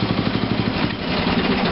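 A 1987 Rally tractor engine idling low with a lean misfire, a close, steady chugging with a slightly uneven pulse, heard alone for under two seconds.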